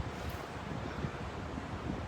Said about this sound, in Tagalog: Maaliwalas, mahangin.